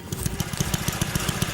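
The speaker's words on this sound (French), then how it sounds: "Fais péter la moto direct." A motorcycle engine runs with a rapid, regular low thumping pulse, moderately loud and steady rather than rising in pitch, with no speech over it.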